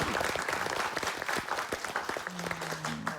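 Studio audience applauding at a Korean TV health talk show taping: dense, steady clapping from many hands fills the whole stretch, with a brief tonal sound near the end.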